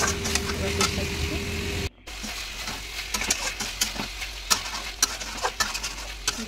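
Meat coated in spices being sautéed with onions and tomatoes in a pan, a close crackling sizzle with scattered sharp clicks and scrapes of stirring, briefly cut off partway through.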